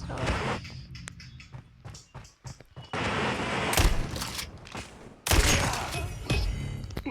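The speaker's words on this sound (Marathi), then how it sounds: "यार आग वाली गन होती काय" Video game gunfire: bursts of shots and booms in clusters, loud and close, with game sound effects between them.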